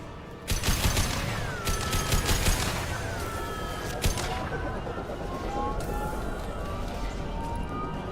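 Gunfire in Mass Effect 2 aimed at injection tubes: a burst of rapid shots early on, then a few scattered single cracks over lingering game ambience and whooshing effects, with no talk.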